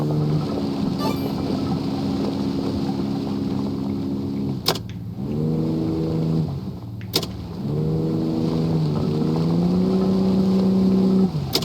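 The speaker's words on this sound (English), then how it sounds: "I'm gonna downshift and see if we can't get through here" An off-road truck engine laboring in a low gear in the game Offroad Mechanic Simulator, a loud, steady drone that twice drops off briefly with sharp clicks and then resumes.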